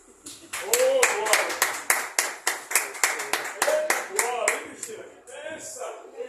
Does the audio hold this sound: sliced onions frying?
no